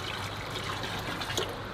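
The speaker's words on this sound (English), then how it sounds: "Okay, this is pond water, just straight out the filter," Pond water flows straight out of a filter in a steady, close trickling splash that keeps going without a break for a couple of seconds.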